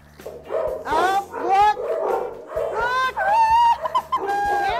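Several dogs bark and yip at an animal shelter, loud, close and overlapping in quick repeated bursts, with a few higher whimpers mixed in.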